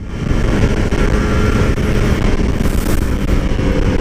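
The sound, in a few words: two-stroke motorcycle engine with stock exhaust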